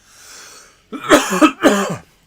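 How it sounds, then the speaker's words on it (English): A person coughs twice in quick succession, close and fairly loud, after a brief faint exhale. "Excuse me, I've got a cough."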